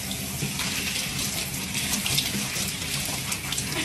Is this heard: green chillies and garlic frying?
no